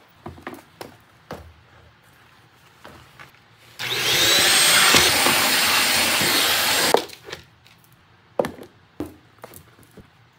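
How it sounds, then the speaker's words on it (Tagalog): A vacuum cleaner runs loudly for about three seconds, sucking up the mess left from a cleaning session, with scattered knocks, taps and handling noises before and after it. "Vacuum muna natin yung kalat."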